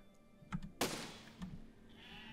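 Sheep in the physics-building game Besiege give short bleats, quiet and a little distant, beside a sharp thunk of an impact. Background game noise hums steadily under them.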